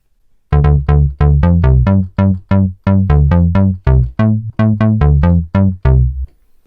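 Punchy house bass notes from a Sylenth1 synthesizer pulse in a bouncy, syncopated house rhythm, each hit decaying quickly, loud and alone for several bars.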